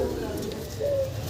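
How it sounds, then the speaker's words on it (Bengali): A pair of black Gola (Kaldom) pigeons in a cage gives a brief, soft coo near the end, faint beneath someone speaking nearby. "চমৎকার এক জোড়া কালদম কবুতর"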